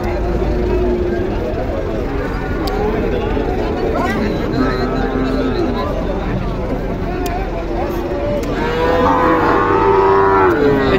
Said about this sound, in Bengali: এই যে একটা ক্রস গরু